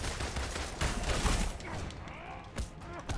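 Gunfire in the Marvel's Avengers video game: a cluster of dull, muffled shots and thumps during a fight, fairly quiet and mixed with other game sounds, tapering off into a couple of isolated hits.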